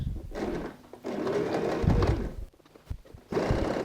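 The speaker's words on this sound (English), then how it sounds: "We just go and sew from this edge to this edge, starting and finishing with the back stitch." A sewing machine stitches a tote bag seam with back stitches at each end, running in steady whirring bursts with a short pause partway through, close and moderately loud.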